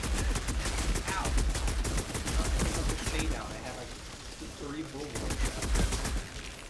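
Rapid, repeated gunfire in the video game Outriders, loud and continuous throughout, with a player talking over the shots.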